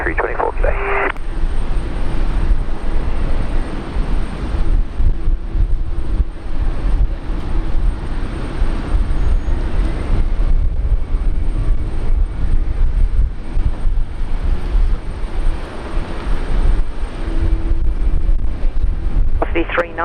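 Aircraft at Brisbane Airport during a busy morning, a distant steady jet roar carrying through the whole stretch, with air traffic control radio chatter breaking in over it.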